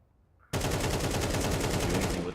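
AK rifle fire in Counter-Strike, one sustained fast automatic burst starting abruptly after near silence, loud and close, with evenly spaced shots to the end.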